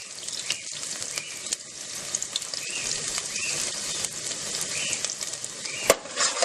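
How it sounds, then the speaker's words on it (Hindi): Finely chopped onion fries in about a tablespoon of oil, producing a steady crackling sizzle heard up close, with scattered pops and a sharper clatter near the end, without any voices. "ऑयल में तकरीबन 1 चमचा बड़ा मैंने इसमें ऑयल डाला है। 1 प्याज बारीक काट के मैंने इसमें डाला है।"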